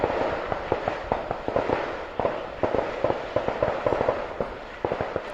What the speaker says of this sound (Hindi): तो ये गोलियों की आवाज़ है